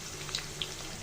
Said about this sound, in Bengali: এখন দিয়ে দিব পেঁয়াজটা ভালো করে ভেজে নিব বেরেস্তার কালার করে।